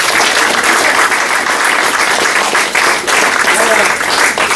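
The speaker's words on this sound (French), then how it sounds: "il mérite bien nos applaudissements" Loud, dense applause from an audience at an art exhibition opening and awards ceremony in Nice, steady and sustained throughout with a faint murmur of voices beneath.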